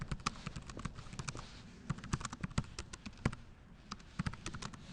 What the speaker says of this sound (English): So let's type a message here.